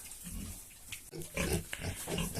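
Pigs on a small household farm grunt and snuffle close by in a steady, uneven stream of low grunts, with no talking.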